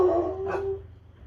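Dogs bark somewhere in the background, a single short burst heard under a steady low hum, moderately loud and brief.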